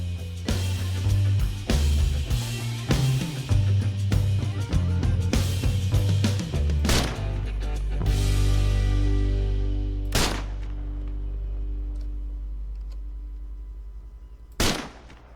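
Mark 1 EMR 7.62mm marksman rifle in Arma 3 firing on a range: sharp, loud single shots in quick irregular succession, then spaced cracks with long booming tails, the last shot near the end.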